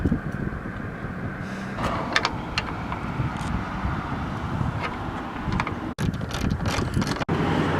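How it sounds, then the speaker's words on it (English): A T30 Torx driver screws down a bolt on a 2017-2019 Ford F250 Super Duty, with steady close ratchet clicking and mechanical whirring and a couple of sharp knocks near the end. "So using a T30, we're going to go ahead and screw this down"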